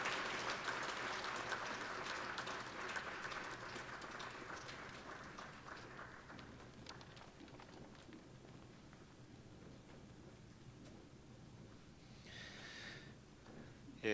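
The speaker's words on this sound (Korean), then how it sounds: "우리 다시 한번 권사의 귀한 분들을 위해서 박수로 축복하겠습니다" A church congregation applauds its deaconesses with brisk, dense clapping that fades into softer scattered clapping. A short, brighter burst of sound rises near the end.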